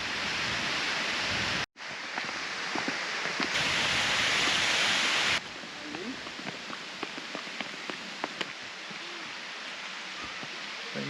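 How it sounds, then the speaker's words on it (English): Steady broadband rush of a waterfall in a Brisbane-area national park, constant and fairly close, with a brief dropout early and a slight shift in level midway; no talking over it. "The waterfall."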